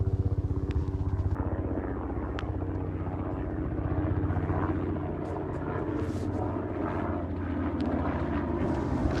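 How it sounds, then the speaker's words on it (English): A helicopter circles over a remote frozen island lake, its rotor throbbing steadily in a continuous loud beat that swells and fades slightly as it moves around, with no voices. "we hear the heli in the background"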